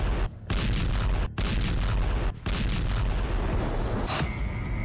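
Artillery shells boom and crack in dense, rolling bursts around a Russian BMP armored vehicle on the Ukraine front, loud and nearly continuous, with short dips between blasts and no voices.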